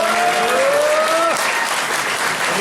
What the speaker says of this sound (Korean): 격려와 응원의 박수